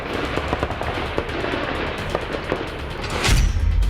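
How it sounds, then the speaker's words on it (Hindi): Rapid bursts of gunfire crackle in a dense, continuous volley during a firefight between soldiers and terrorists, ending in a heavier low rumble like a distant blast. "जवानों ने आतंकियों को इतनी गोलियां मारी"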